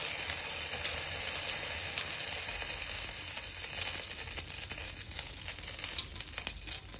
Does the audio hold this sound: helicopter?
no